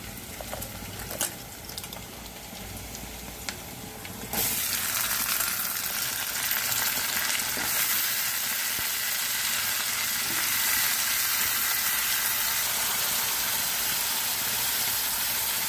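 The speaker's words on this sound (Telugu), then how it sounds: "ఉల్లిపాయ పచ్చిమిరపకాయ వేగిపోయిందండి. ఇప్పుడు ఈ అరటికాయలు వేసుకుందాము." Raw plantain pieces drop into hot oil already frying onion and green chilli, and the steady sizzle jumps to a loud, dense crackling hiss that continues evenly and close, with no talking.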